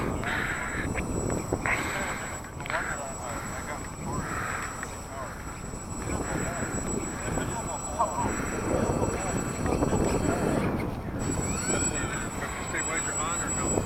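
An RC model B-24 Liberator, a 2000 mm four-engine WWII bomber replica, flies on its maiden flight, its electric motors giving a steady buzzing drone that swells and fades slightly, with people talking nearby.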